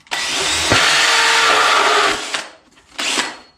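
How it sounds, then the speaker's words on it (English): A power drill whirs loudly for about two seconds as it bores through cardboard, then a short second burst follows after a brief pause. "I am going to drill a hole into the cardboard first."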